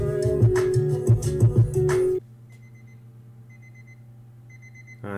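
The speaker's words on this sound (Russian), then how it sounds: "Где-то будильник." A loud burst of music cuts off abruptly, leaving a quiet electronic alarm beeping in short repeated bursts over a low hum.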